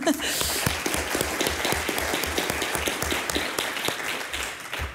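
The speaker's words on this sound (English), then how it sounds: "if we could also give a quick round of applause to our mic runners, Lon and Justin" A conference audience gives a round of applause to the microphone runners, with steady, fairly close clapping in an even rhythm that continues throughout, with some voices mixed in.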